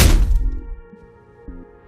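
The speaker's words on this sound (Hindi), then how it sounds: "मुझे अपने कैबिन की छत पर किसी भारी चीज़ के गिरने की आवाज़ सुनाई दी।" A heavy object lands on a cabin roof in the forest with a single loud, close thud, and a dull rumbling resonance fades away afterwards.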